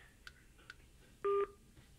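A call-end tone from an Aukey SK-M3 Bluetooth speaker after hanging up via its power button: a couple of faint short clicks, then a brief steady electronic beep lasting about a quarter second, alone in quiet.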